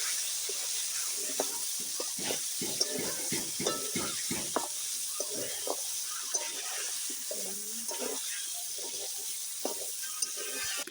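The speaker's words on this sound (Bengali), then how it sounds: "কপিটা এখন আস্তে আস্তে ভেজে নিচ্ছি" Cauliflower pieces frying slowly in a blackened wok, giving a constant soft hiss with frequent close scraping and clinking stirs of the spatula, and brief low talk in the background.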